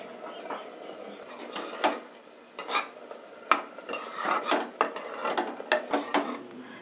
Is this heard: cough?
no